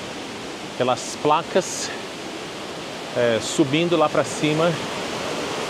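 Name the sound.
small waterfall flowing beside a temple path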